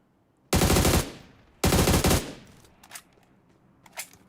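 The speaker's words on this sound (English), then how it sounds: "few gunshots being fired by Alter Ego." Two loud bursts of rapid automatic gunfire from team Alter Ego in an esports battle royale match, each lasting about half a second, followed by a few fainter distant single shots, with no talk over them.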